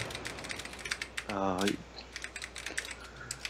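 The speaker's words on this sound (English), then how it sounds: "typing away" Fingers typing on a computer keyboard during a live chat show, a steady patter of quiet clicks running throughout, with a short burst of voice in the middle.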